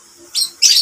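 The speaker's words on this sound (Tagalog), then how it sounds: "So, papakain po tayo ng ibon." A baby bird being hand-fed with a syringe gives two short, sharp, high chirps close by, separated by a brief pause.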